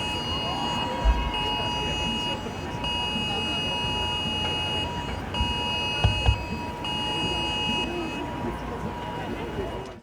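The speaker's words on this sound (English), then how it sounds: "So that's the emergency alert" A UK emergency alert test tone sounds through phones in a broadcast news setting, a loud, steady electronic tone that pulses in long segments with short breaks, layered over background noise and occasional thumps.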